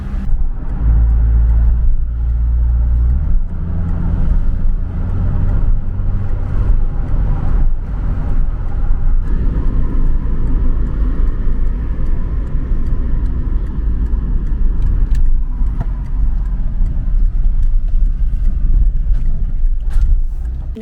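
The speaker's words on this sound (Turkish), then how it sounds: "Şu anda hala trafikteyiz." Steady low engine rumble of a car moving through slow, congested road traffic on a hot day, continuous and close throughout, with faint passing-vehicle noise layered on top.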